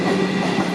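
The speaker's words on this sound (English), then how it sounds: "339M on the rear on the down Craigieburn train. Comeng departing platform 2 at Tottenham." A Comeng suburban train on the down Craigieburn line pulls away from platform 2 at Tottenham station, a loud, steady rumble with a rhythmic clatter of wheels close by and no talking.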